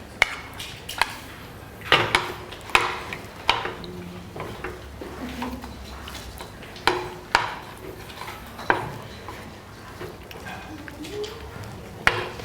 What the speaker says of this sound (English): I'm just going to see if I can mix that together a little bit.